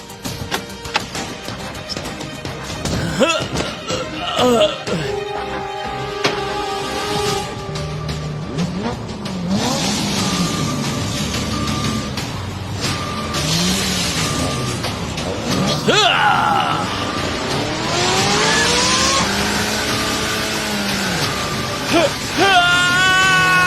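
Expensive cars rev hard, their tires squealing and skidding before impacts, with engine roars rising and falling over a dramatic music bed in an action scene.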